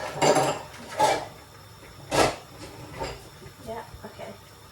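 Someone puts things into bowls and puts items back in a kitchen while making Maggi. Several distinct knocks and clunks land about a second apart, with smaller taps between them, beside nearby talk.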